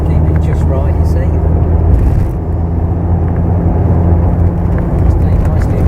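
A Lotus Esprit Turbo sports car drives along and overtakes a van, its engine giving a steady loud rumble throughout. Someone talks over the noise the whole time.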